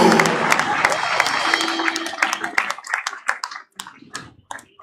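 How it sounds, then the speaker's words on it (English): An audience applauds, clapping dense at first and then thinning into scattered claps. Some crowd noise sits underneath. "Please clap for him."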